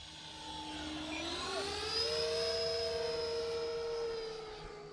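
An E-Flite F-15 Eagle RC jet with a 64mm electric ducted fan flies past, its steady high whine rising in pitch and loudness through the middle as it nears, then easing off, with no voices.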